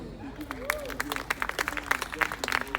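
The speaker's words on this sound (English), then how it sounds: "Please keep clapping, otherwise he will stop coming" Audience applause at a festival launch in a hall, steady clapping from a crowd throughout with scattered louder claps and a voice briefly rising over it.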